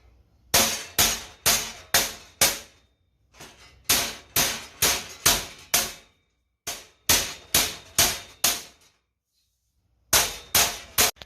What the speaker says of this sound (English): let's hammer these ones down.